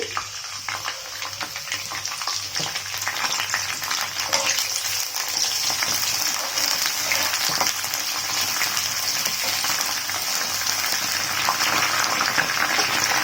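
Curry leaves crackle and sizzle in about three tablespoons of hot oil in a pan for prawn biryani, a continuous close-up frying hiss that grows slightly louder after the first few seconds.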